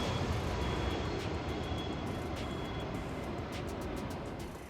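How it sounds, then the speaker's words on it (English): Airplane landing overhead in the north end of Little Italy, San Diego: a steady, loud broadband jet roar that fills the whole clip and slowly fades toward the end, with no talking. "there's a plane landing in the background"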